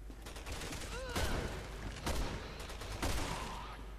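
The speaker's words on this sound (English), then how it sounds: "Ooh, quick shot in the face." Gunfire in Resident Evil 6 rattles through a busy game mix, with dense bursts of shots and sharp impacts clustered near 1.2 s, 2.1 s and 3.1 s over continuous background noise.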